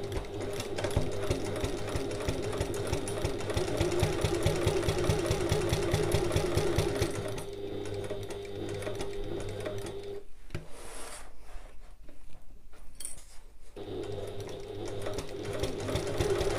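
A sewing machine runs in quick rhythmic bursts, back stitching a seam on a large fabric bag with a quarter-inch allowance. Steady close stitching gives way to a short pause, then resumes.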